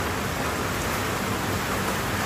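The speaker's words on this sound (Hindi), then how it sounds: "देखो लगातार बारिश हो रही है" Steady, continuous rain pours down outdoors, a dense unbroken hiss that stays loud and even throughout with no voices.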